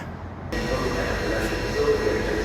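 A train bound for Tropea in Calabria rumbles by at night, a loud continuous low roar that starts abruptly and stays steady, with voices talking underneath.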